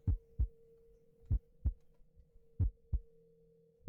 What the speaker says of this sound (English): We're just listening to heartbeating sound effects in the background.